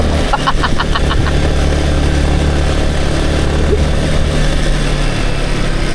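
A motorcycle engine runs loud and steady nearby, a continuous low throb with a few brief higher tones early on.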